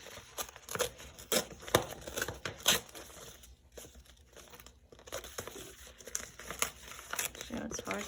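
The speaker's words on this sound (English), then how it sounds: "it's hard to tear this paper because it's a vinyl based paper" Vinyl-based paper being torn and crinkled by hand for a collage journal, a run of short crisp ripping and rustling bursts spread across the clip with a pause in the middle, close and moderately loud.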